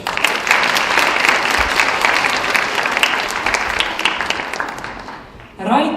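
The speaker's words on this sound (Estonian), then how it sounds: "Aplaus!" An audience at a school fashion show applauds, with dense, steady clapping from many hands that fades after about five seconds before a voice begins speaking.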